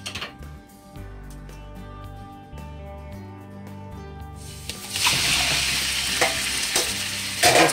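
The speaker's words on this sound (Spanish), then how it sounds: "Lo primero que vamos a hacer es poner la carne en la sartén" Pork meat frying in a pan for pork adobo with potatoes, first a quieter stretch under steady background music, then a loud, dense sizzle rising around the middle and holding, with a few sharper crackles near the end.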